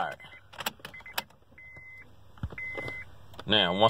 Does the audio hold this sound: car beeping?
yes